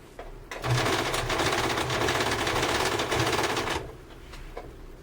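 A domestic sewing machine runs steadily stitching elastic bias binding, a fast rattling motor buzz for about three seconds, then slows and stops with a few softer clicks.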